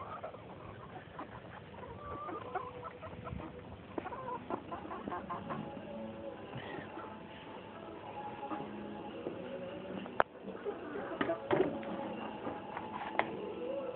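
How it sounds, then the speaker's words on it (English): Chickens cluck and murmur continuously at moderate distance, with scattered sharper squawks and faint farmyard clatter. "Go on, chickens."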